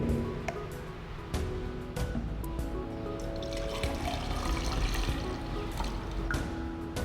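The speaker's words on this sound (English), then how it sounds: "We now pour this 250 milliliters water into this 1 liter measuring cylinder." Water poured from a 250 milliliter measuring cylinder into a 1 liter measuring cylinder, a steady close splashing trickle that runs throughout with a few small knocks of glass, no talking.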